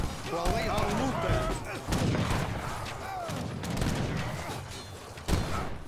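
Cannoneers fire during an Age of Empires 3 battle, with a dense, continuous clatter of gunshots and cannon booms and a sharper blast near the end.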